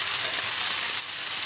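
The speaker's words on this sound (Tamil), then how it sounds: "இப்போ முதல்ல புதினா சேர்த்துக்கலாம். புதினா நல்லா வதங்கட்டும்." Mint leaves sauté in hot oil for a mint, coriander and curry leaf pickle, giving a steady, dense sizzle that stays close and even throughout, with no voices.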